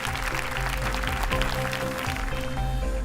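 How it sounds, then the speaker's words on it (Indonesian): A stand-up comedy show audience claps for the comedians in a continuous wash of applause, with some background music or tones mixed underneath. "sekali lagi tepuk tangan untuk semuanya yang sudah menghibur kita"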